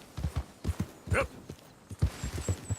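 Hooves of a horse ridden in a video game clip-clop in a quick, uneven walking rhythm, close and clear, with a short whinny-like tone partway through.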